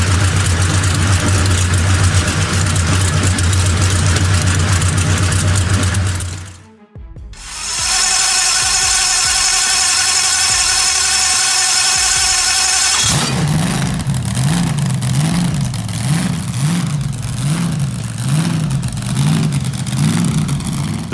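An M26 Pershing tank's engine, rated around 500 horsepower, running under throttle in a loud, continuous, rough roar that dips and cuts out briefly, then returns with a rhythmic pulsing drone, with no one talking.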